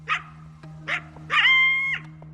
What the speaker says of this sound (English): Could these be the howls of coyotes?